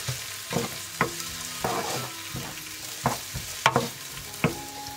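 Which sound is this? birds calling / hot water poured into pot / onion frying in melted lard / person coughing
onion frying in melted lard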